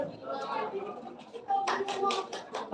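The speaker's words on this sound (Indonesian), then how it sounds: "Beri tepuk tangan yang meriah." At an elementary school graduation, a handful of claps starts up partway through after talking, forming short, fairly close bursts of hand clapping from a small group.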